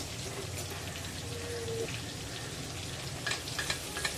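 Garlic, ginger, masala and turmeric sautéing in hot oil give off a faint, continuous sizzle with a soft crackle, close but quiet, and a few light spatters near the end.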